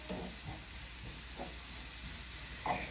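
Jackfruit with a little agave stirred in a hot pan on medium-high heat: a steady sizzling hiss with soft periodic scraping strokes from the spoon, fairly quiet throughout.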